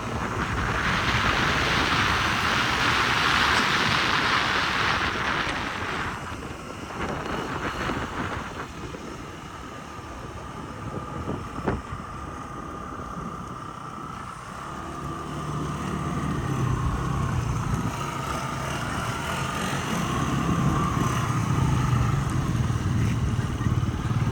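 A fuel-injected Yamaha Jog SA-39 ZR scooter on a test ride, its small engine droning steadily under heavy wind rush that fades in the middle and builds again toward the end.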